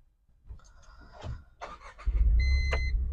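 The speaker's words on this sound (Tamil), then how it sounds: "சிஎன்ஜியில் இப்போ நம்ம வண்டியை ஸ்டார்ட் பண்ண போகிறோம்." A Tata Intra bi-fuel pickup starts on CNG: a few soft clicks and whirs, then the engine catches and settles into a low steady idle with a brief electronic beep ringing over it.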